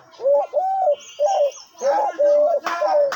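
A caged hunting decoy bird calling repeatedly up close, a loud series of rounded, cooing notes in a steady rhythm, with faint background noise and brief voices.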